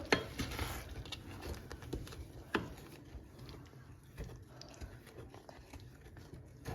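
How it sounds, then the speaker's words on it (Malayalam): Sugar is being stirred into tart wild blackberries for jam, a spoon scraping and clinking steadily against the pot for several seconds, close up with no talking. "ഇത് നന്നായിട്ട് ഇങ്ങനെ മിക്സ് ചെയ്ത് കൊടുക്കാം നമുക്ക്"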